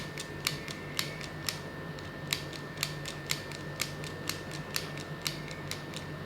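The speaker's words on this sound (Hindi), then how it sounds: "Amy mini hand shaving machine को पूरा दबाएंगे और पूरा उठाएंगे। ऐसे ही करते चले जाएंगे, धीरे धीरे सिलाई करेंगे।" AMI mini handheld stapler-style sewing machine pressed fully down and raised, a steady series of about a dozen crisp mechanical clicks at a slow regular pace, close and alone with no speech.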